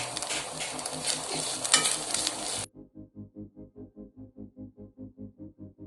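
Spices with fennel seeds and curry leaves fry in hot oil for Kerala-style roasted-coconut country chicken curry, giving a loud continuous sizzle and stirring that cuts off abruptly, followed by a regular pulsing hum.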